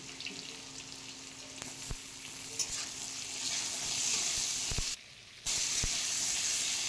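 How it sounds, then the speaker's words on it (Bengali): Four large tomato pieces fry with already-fried potatoes in a pan for a fish curry, giving a steady close sizzle broken by clicking stirs and a brief dip in sound near the end. "টমেটোটা দিয়ে আরও ভালো করে কষিয়ে নেব।"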